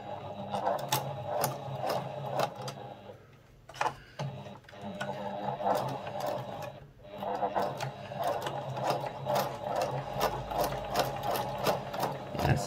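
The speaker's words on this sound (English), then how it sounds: "you've attached your wire with a zigzag stitch" A sewing machine runs a zigzag stitch to attach brim wire to a hat brim, its needle chattering in a steady rapid rhythm that pauses briefly twice before resuming, close and fairly loud.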